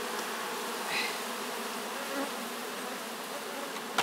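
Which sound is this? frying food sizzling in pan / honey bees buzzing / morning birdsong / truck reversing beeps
honey bees buzzing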